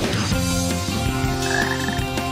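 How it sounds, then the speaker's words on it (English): Frogs croak loudly and continuously in the Frog Forest stage of the Sonic Heroes video game, layered over dense game music and effects. "There's a frog over there!"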